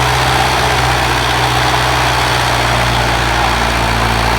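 A Mahindra 655 tractor's diesel engine, upgraded to CRDI for about 25 extra horsepower, runs loud and close with a steady low throb and no change in pace.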